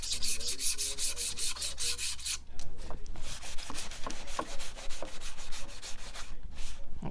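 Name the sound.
sanding painted wood lightly with sandpaper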